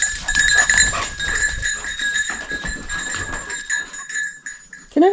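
Goats bleat on a Portuguese homestead, a steady chorus of calls with a sharp tonal cry near the end, loud and close amid other farm-animal noise.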